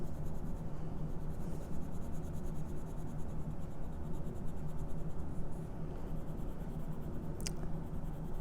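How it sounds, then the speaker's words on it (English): A blue crayon rubs steadily across paper, a soft continuous scratchy coloring sound that stays close and even throughout, alone without speech. "So take your blue crayon and color your last mouse blue."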